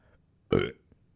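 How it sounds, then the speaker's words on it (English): A single short, loud burp erupts close up after a drink, then quiet. "Burp again."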